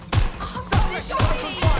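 Gunfire in Watch Dogs Legion, four sharp, heavy shots or short bursts spaced about half a second apart, loud and close, each with a booming low thump and ringing tail.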